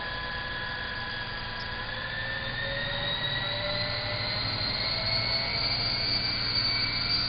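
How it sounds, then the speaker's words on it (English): A remote-control toy helicopter spins up for liftoff, its high electric whine and rotor hum rising steadily in pitch and growing slightly louder, close by with no talking. "I'm going to lift it up right now."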